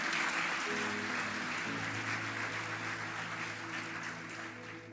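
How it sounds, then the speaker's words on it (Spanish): Sustained applause from a church congregation fills the room, steady and dense throughout, with faint musical tones sustained underneath and no talking. "dale más fuerte ese aplauso al rey"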